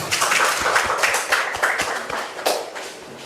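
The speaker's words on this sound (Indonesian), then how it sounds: "Tepuk tangan untuk kelompok 6." A classroom group applauds group 6 after their presentation with a short burst of brisk, close hand clapping that thins out toward the end.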